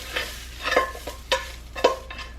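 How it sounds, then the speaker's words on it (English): Onions and garlic cooking in a pan, stirred in several separate scrapes and clatters over a soft steady sizzle, fairly close with no talking. "Okay, so I browned my onions and my garlic."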